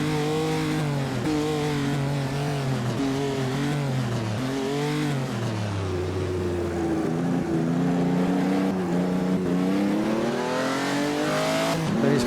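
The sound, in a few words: race car driving in Assetto Corsa video game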